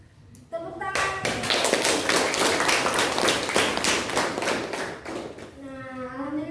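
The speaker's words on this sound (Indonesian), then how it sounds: "Terima kasih. Tepuk tangan." Classroom applause from students, a dense burst of clapping lasting several seconds after a brief voice, fading as a speaker begins talking at the end.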